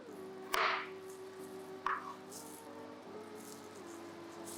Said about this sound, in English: before chopping it into smaller pieces.